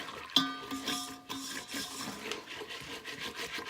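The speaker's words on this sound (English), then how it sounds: "This is a non-stick pan, so I do want to make sure I'm using a rubber kind of a whisk." A rubber whisk scrapes and stirs cinnamon rice pudding in a non-stick pan, giving close, uneven rubbing and swishing strokes with a sharp knock near the start.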